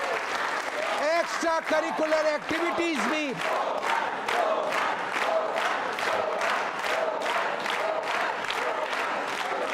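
Audience applause from members of a social group at a Jain quiz show event, loud steady clapping filling the whole stretch while someone speaks over it at first.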